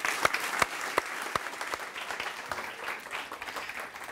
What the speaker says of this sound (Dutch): een hartelijk applaus voor Stacey Esaias